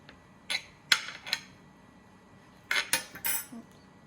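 Cutlery cuts into an Oreo peanut butter cheesecake with hot fudge on a plate, giving two bursts of close, short scrapes and clinks against the plate separated by a brief quiet pause.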